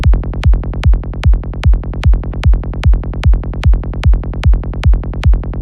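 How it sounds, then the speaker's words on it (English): A rendered psytrance bass resampled from Serum 2 rolls under a kick drum, producing a fast, driving pulse of thick low thumps and clipped bass notes, loud and continuous with no voices. "So now we have the kick and the rendered bass."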